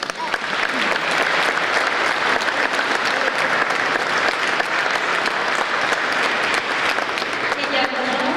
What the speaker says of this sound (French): On peut tous nous applaudir.